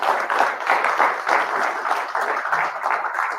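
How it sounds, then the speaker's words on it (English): Audience applause at a fishing tournament awards ceremony, a short burst of steady clapping from a crowd, fairly close and continuous. "So yeah, round of applause."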